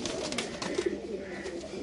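Pigeons coo in low, soft, rolling calls, repeated a few times against a steady, noisy background.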